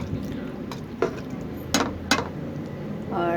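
A spoon stirs meat and pumpkin curry in a metal pot, giving a few scattered clinks and scrapes against the pot over a low steady background, with no talk.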